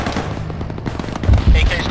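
Close AK rifle gunfire in an urban Arma 3 firefight: a short, loud cluster of shots near the end, heard under continuous radio-style team talk.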